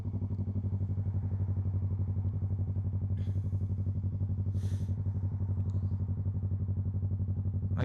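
A 2020 Yamaha R3 motorcycle engine runs steadily and loudly close by, holding a constant low throbbing note with no clear rise in pitch throughout.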